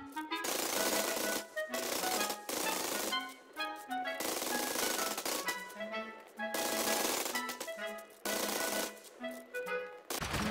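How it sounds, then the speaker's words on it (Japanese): Automatic gunfire in the survival game Rust, fired in long rapid bursts separated by short pauses, loud and close, with sharp metallic ringing layered over the shots. "打ち切るだけ打ち切りましょう"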